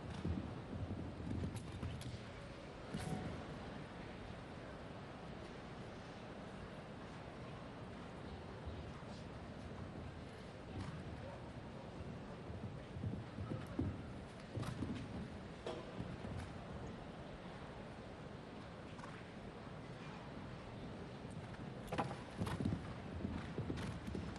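Horse hooves clip-clop across an arena during a 1991 Gothenburg show jumping round, a steady rhythm of soft thuds under distant crowd murmur and faint commentary.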